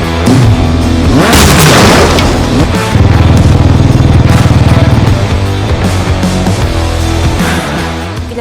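Cartoon scooter engine revving loudly as Granny rides in, a buzzing motor drone under busy music and sound effects, with a heavy boom near the start.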